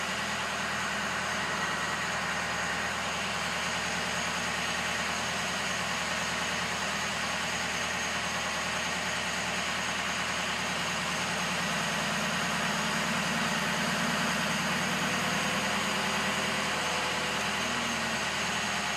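A Ford 6.0L Powerstroke diesel truck engine idles steadily and close up, a continuous low, even rumble with a faint ticking texture, holding constant for the whole stretch with no voices.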